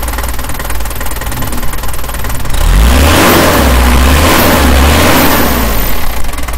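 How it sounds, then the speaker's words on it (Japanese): A 1979 Nissan Gloria 220D GL diesel engine idles low, then revs up in several strong surges from about the three-second mark, deep and loud, settling back between pulls. "これちなみにエンジン吹かすと今どんな風な音をしますか"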